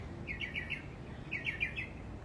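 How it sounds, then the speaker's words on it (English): Songbirds chirp in two quick bursts of bright, rapid notes separated by a short pause, fairly faint over a soft background hiss. "Do you ever wonder what the birds are singing?"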